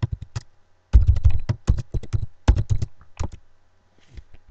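A computer keyboard is typed on in quick clustered bursts of crisp keystrokes, close and fairly quiet, with short pauses between groups.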